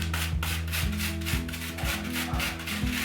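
Steady, rhythmic rasping of a peeled onion being rubbed against a kitchen grater, close and loud. The strokes repeat about every half second with no talking.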